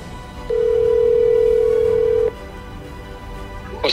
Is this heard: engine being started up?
no